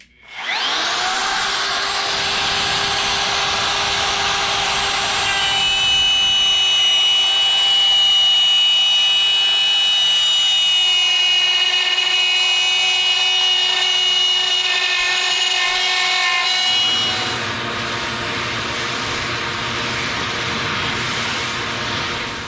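A wood router cuts a straight channel in plywood for a drawer build, producing a loud, steady high-pitched whine that runs unbroken for over twenty seconds and deepens slightly near the end, with no talk.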